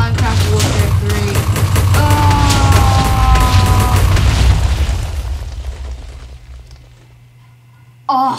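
A C4 bazooka blast in Minecraft with the More Explosives mod: loud booming explosions and crackling bursts roll for several seconds, then fade into a long decaying rumble before a short sharp sound cuts in at the end.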